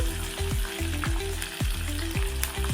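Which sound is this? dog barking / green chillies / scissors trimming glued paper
green chillies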